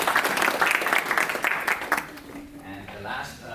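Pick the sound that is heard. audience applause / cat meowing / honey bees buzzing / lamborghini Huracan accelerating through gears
audience applause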